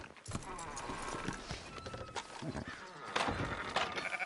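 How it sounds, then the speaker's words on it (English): Sheep bleating among livestock in the Red Dead Redemption 2 video game, heard faintly through a busy mix of hoof clatter and ambient noise, with people talking over the scene. "Fine sheep."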